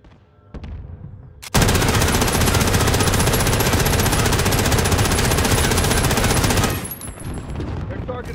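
An MG82 light machine gun in Warzone fires one long, uninterrupted burst of about five seconds, loud and close, with quieter game ambience before and after.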